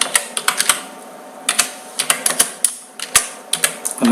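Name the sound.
typing mother's name in Notepad on a computer keyboard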